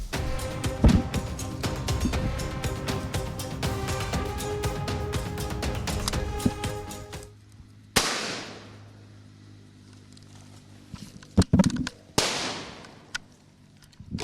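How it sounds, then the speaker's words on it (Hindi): Rapid bursts of gunfire crackle through a jungle during a firing exercise, first as a dense continuous volley, then as separate loud sharp reports with echoing tails. "देखिए फायरिंग शुरू हो गई जंगल में"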